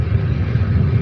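Ryanair airliner at Faro airport, a loud continuous low engine roar filling the whole moment without a break.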